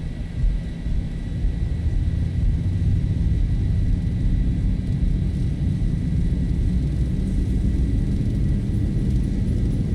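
Boeing 737 jet engines spooling up to takeoff thrust, a loud continuous roar and deep rumble holding steady throughout, heard close as if from inside the aircraft, no speech.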